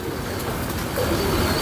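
Pigeons coo steadily in a loft, a soft continuous murmur of several birds close by with a slightly louder stretch toward the end.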